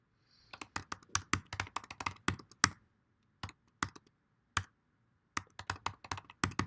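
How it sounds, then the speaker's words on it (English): A password being typed on a computer keyboard: quick, close clattering keystrokes in bursts, with short pauses between runs of keys. "I'm going to type a really bad password"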